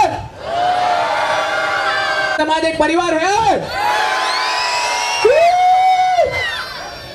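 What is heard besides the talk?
crowd shouting with full energy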